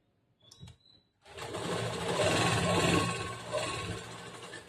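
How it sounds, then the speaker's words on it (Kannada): A sewing machine stitches along the marked neckline of a princess-cut blouse, starting after a short pause with a couple of faint clicks, then running in a steady, close whirring hum. "ಈ ನೆಕ್ ಮಾರ್ಕಿನ ಮೇಲೆ ನಾವು ಹೊಲಿಗೆ ಹಾಕ್ಬೇಕು"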